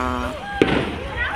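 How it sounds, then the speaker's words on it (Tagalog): Fireworks go off at the Lunhaw festival in Mabinay, one sharp bang cutting in midway, with people talking loudly nearby before and after it. "makarinig ng fireworks, kasi nagpa-fireworks na"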